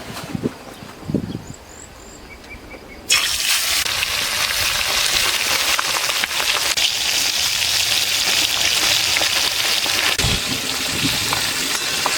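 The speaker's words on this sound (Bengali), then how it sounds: "তেল গরম হয়ে গেছে, এবার মাছগুলো ভেজে নেবো।" Fish sizzling and spitting in hot oil in a pan, a quiet start with a few kitchen knocks before a loud, steady broadband sizzle bursts in and continues alone.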